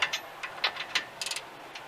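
Ratcheting clicks from a 3/4 inch socket wrench loosening the top bolt on a tractor quick hitch, a few quiet irregular metallic clicks in short bursts, close and alone with no talk.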